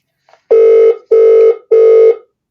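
A business telephone line rings in three loud, even electronic bursts of steady tone, each about half a second long with short gaps between, sounding alone without talk.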